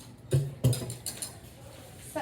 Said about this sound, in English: I'll give it a whisk here.